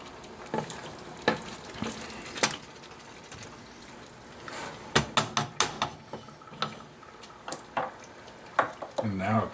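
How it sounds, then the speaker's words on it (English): Pinto beans being stirred into Texas goulash in a pot: a spoon clanks and scrapes against the pot in irregular bursts over a soft simmering hiss, with a voice speaking now and then. "Stir those in there."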